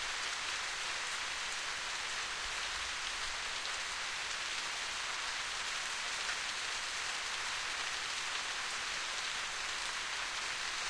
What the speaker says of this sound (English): the rain doesn't mean anything good